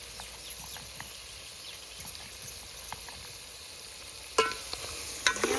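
Ground masala paste sautéing in a pan, a soft continuous frying hiss with light scraping stirs, a couple of sharper clanks near the end.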